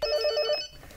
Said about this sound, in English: it rings the phone in my room to let me know.